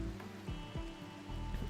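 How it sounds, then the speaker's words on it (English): Toxic fallout rain in the video game Rimworld, a soft, steady patter of rain on surfaces, faint and continuous with a low rumbling tone beneath. "Nobody wants to see toxic fallout rain."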